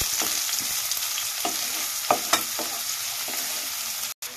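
Chopped green chillies and onions frying in a pan for a home-style banana flower curry, giving a continuous sizzle broken by a few sharp stirring scrapes and clicks of the spatula.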